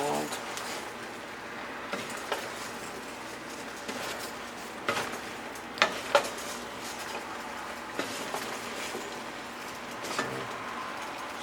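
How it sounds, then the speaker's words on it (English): Onions frying in a pot for a vegan black bean stew are stirred with a utensil, a steady sizzle running throughout with scattered scraping and clinking knocks against the pot, a couple louder near the middle. "Just give it a stir so the onions are not burning underneath"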